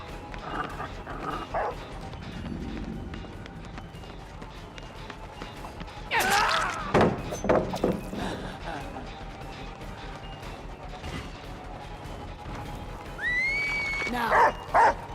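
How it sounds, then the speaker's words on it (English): A hound in Dead by Daylight yelps and barks in short bursts amid game noise, with a sharper, louder cluster midway and more near the end, while a player talks over it. "sending the dog out too early"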